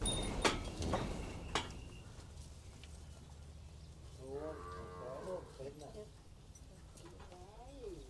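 Cattle at a livestock market in Wang Prachop, Tak, Thailand: after some clattering knocks, one cow gives a drawn-out low moo, then a second, shorter call follows. Background market noise and faint voices continue throughout.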